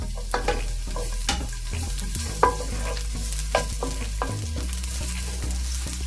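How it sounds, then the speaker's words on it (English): Garlic fries in four tablespoons of hot oil in a pan for egg fried rice, giving a steady close sizzle with scattered stirring scrapes and ticks throughout and no voices. "I'm going to heat up 4 tablespoons of oil in a pan, and then to that I'm going to add the garlic"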